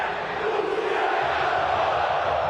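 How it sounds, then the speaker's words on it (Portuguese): Football fans at the Maracanã stadium applaud Pedro as a steady, dense wash of crowd clapping and cheering rolls on throughout. "E aqui no Maracanã, Pedro voltou a ser aplaudido pelos torcedores."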